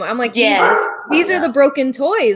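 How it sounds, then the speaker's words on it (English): A dog barks and yips in short, close, bright bursts that mix with a person talking right over them. "Sorry for my dog."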